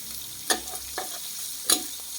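Garlic stir-fries in a pan for a Thai eggplant stir-fry, a continuous close sizzle broken by a few sharp spatula scrapes and knocks, with no talking.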